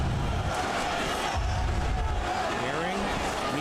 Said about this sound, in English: this crowd is going insane off the bat